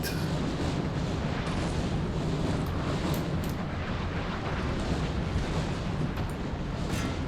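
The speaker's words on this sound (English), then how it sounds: "Still get some guns shooting in here" Steady, dense roar of distant musket and cannon fire during a Napoleon: Total War battle, a continuous rumbling wash with faint scattered cracks and no voices.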